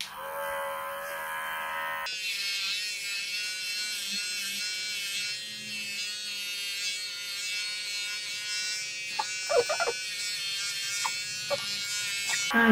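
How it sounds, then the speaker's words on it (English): Electric clippers shave fur around a guinea pig's large facial abscess, a steady close buzz that starts abruptly and runs throughout, with a few faint handling noises near the end. "So we're just going to continue shaving."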